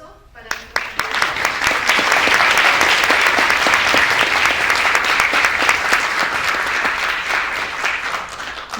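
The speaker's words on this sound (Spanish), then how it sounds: "Les invito, por favor, a dar un fuerte aplauso para nuestra" A conference audience at Harvard applauds a panel, the clapping swelling quickly after a brief pause into loud, sustained, dense applause that holds for several seconds.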